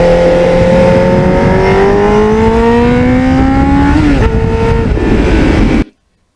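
A 1989 Kawasaki Ninja GPX750R motorcycle on the road, engine droning and climbing steadily in pitch as it accelerates, then a quick drop at a gear change before pulling again, loud and close with wind rush, cutting off abruptly at the end.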